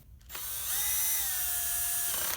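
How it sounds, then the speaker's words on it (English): A power drill drives a screw into a StringKing Mark 2V plastic lacrosse head: a short click, then a steady close motor whine lasting about two seconds before it stops. "insert it right through the front of the stick, and then drill in from the backside"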